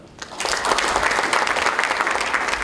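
Sustained applause from a seated audience at a 2019 Democratic Party training session for local government heads, starting after a brief quiet moment and holding at a steady, full level with no talk over it.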